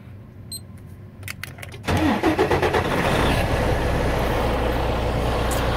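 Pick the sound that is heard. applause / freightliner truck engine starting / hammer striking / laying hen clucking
freightliner truck engine starting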